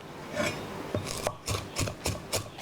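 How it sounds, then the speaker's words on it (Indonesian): A knife chops spices, including torch ginger, finely on a board for Balinese sambal matah. Crisp, close strikes fall in a quick, fairly even rhythm, with no talking. "semua bumbu ini akan saya rajang sampai halus"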